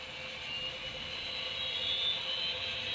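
A small model jet turbine engine built from a kit spins up with a steady, high-pitched whine and airy roar, close and continuous throughout.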